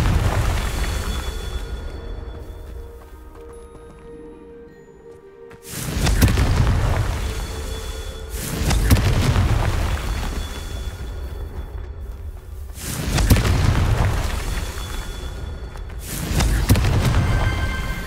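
Confringo blasting spells in the Hogwarts Legacy video game go off as a series of deep booming explosions, four heavy bursts spaced a few seconds apart with rumbling decay between them.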